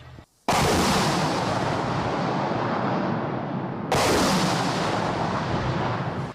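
Two booming artillery shots in Donetsk region, one at the start and another a few seconds later, each followed by a sustained rolling roar, loud and close.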